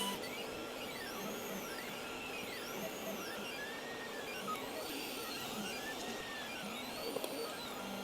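An Elegoo Orangestorm Giga 3D printer feeds filament through its motor to the print head, making a steady mechanical whir with rising and falling stepper-motor tones that repeat in sweeping arcs and stay at a low, even level throughout.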